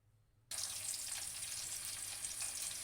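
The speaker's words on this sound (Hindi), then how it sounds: "तेल को मैंने चूल्हे के ऊपर चढ़ा दिया। तेल हमारा अब गर्म हो गया।" Mustard oil heating on a stove for pickle-making bursts into a steady, loud sizzle after a brief quiet start, the hiss continuing evenly and close with no talking.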